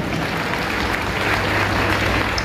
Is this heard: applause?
yes